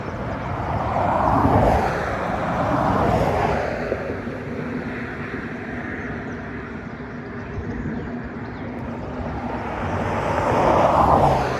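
A car passes along a road during an outdoor nature walk, a broad rumbling whoosh that swells, fades through a steady windy hiss and then swells again as another approach builds near the end, with no talking.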